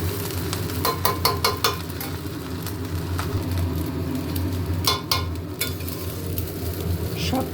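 Light fried rice being stirred and fried in a pan, with a steady low sizzle and scattered scraping clicks of a spatula, close and continuous with no talking.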